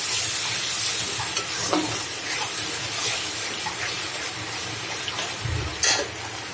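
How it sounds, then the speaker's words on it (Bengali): Ground chili, turmeric, coriander and cumin fry in oil in a pan, giving a continuous close sizzle with occasional stirring scrapes and louder spits. "এখন মশলাগুলো অনেক সুন্দর কষানো হয়ে গেছে"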